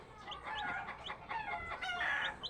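A layer hen clucks and murmurs in soft, continuous, overlapping calls, close by in a coop, with no talking.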